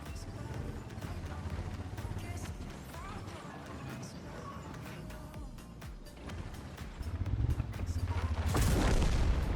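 Rumbling video game battlefield noise with scattered thuds and clanks, ending in a loud booming tank gun blast from a JPZ E100; voices talk over it.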